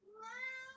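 A house cat lets out a single drawn-out meow that rises and holds, close and clear, with no talking over it.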